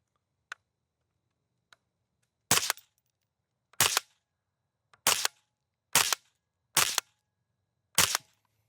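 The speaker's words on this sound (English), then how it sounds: "We took 6 shots." Six sharp gunshots from an FN P90 ring out alone at an outdoor range, evenly spaced about a second apart, each loud and crisp, after a couple of faint clicks.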